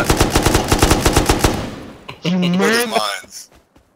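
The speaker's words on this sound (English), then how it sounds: "I was shooting at the mines" Rapid automatic gunfire fired at mines in the survival game Rust: a loud, evenly spaced burst of shots fades after about a second and a half, then a voice briefly speaks.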